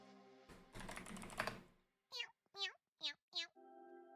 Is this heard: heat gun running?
no